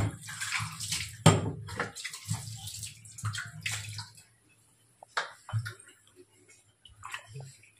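Water being poured into a pot for making fish tea, a close splashing pour in uneven bursts with pauses and a few drips between.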